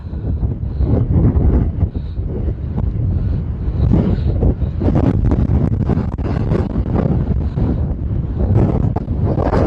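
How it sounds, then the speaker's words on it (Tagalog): Strong wind buffets the microphone in a continuous loud roar with gusty fluctuations, no other sounds standing out. "malakas po yung hangin"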